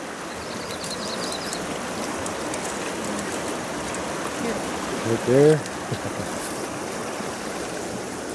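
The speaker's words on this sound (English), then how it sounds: "Little river up above." A small river flows with a steady rushing wash through willow bush country, continuous and moderately close, while people speak briefly over it.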